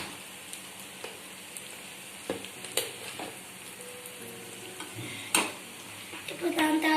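Boiled eggs fried with turmeric and salt are stirred in a pan, sending scattered spatula taps and scrapes over a quiet, constant sizzle that swells into louder clatter near the end.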